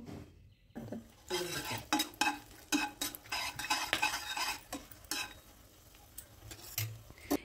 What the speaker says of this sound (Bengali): এখন এই গরম তেলের মধ্যে দিয়ে দেব 2টো তেজপাতা, দিয়ে দেব 4-5টি শুকনো লঙ্কা, দিয়ে দেব 1 টুকরো দারচিনি আর কয়েকটা লবঙ্গ।